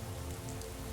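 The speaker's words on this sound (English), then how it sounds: "It's raining hard." Steady rain falls in the video game Skyrim in the city of Riften, a dense, even hiss of drops hitting surfaces, fairly faint with a low rumble beneath and no voices.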